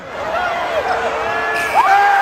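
A crowd at a summer league basketball game cheering a made basket, with whoops and excited voices rising together over a couple of seconds, fairly loud and close, with voices talking in the mix.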